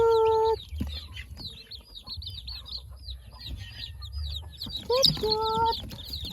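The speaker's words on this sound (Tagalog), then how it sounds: "May mga sisiw din kami guys, mga bagong pisa" Newly hatched chicks and native hens on a backyard poultry farm, with repeated high peeping chirps and clucking close by, plus a low background rumble.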